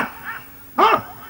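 A single short bark from a dog rises sharply over a steady hiss of background noise, fairly close and loud, preceded by faint vocal murmuring.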